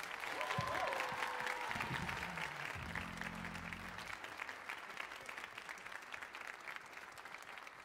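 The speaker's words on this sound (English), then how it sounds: "Please, one more round of applause." Quiet, sustained applause from a choir concert audience continues throughout, with a few brief tonal sounds near the start.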